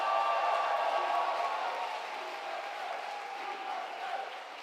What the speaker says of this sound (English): please have a big round of applause for all the finalists